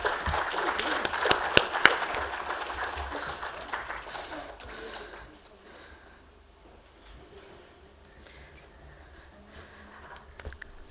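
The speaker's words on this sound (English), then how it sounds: "Ladies and gentlemen, please give a huge round of applause" Applause from a conference audience at a national conclave on metals and minerals, dense and fairly loud at first, then thinning out to scattered claps and room noise.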